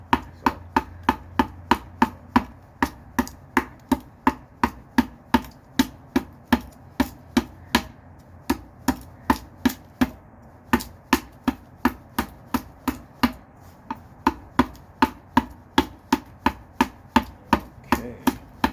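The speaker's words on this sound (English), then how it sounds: "rather than using an axe, I'm using an adze." A gutter adze chops and hollows out wood in sharp, evenly paced strikes, dozens of crisp thwacks repeating about once a second at close range with brief pauses.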